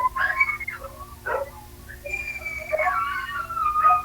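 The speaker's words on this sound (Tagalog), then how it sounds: "Yan, nagalit na yung aso mo." A dog gives high, whining yelps and whimpers in short bursts close by, more whiny than deep growls, with a steady low hum underneath and no speech.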